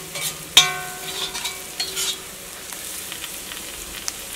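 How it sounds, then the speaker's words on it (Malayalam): Turmeric powder fries in oil in an iron pan for a Kerala chicken roast, giving a soft, crackling sizzle broken by stirring scrapes and one sharp metallic clank of a spoon against the pan. "ഈ മഞ്ഞൾപ്പൊടി മുരിഞ്ഞിട്ട് വരാൻ വേണ്ടിയിട്ട് കുറച്ച് സമയം കൂടുതലെടുക്കും."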